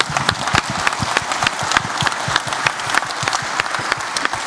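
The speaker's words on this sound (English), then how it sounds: "I'd also like to ask you to give a round of applause to Erin and the RegoDesk team" Loud, dense applause from a conference audience at a closing session, steady sustained clapping filling the whole stretch with no pause.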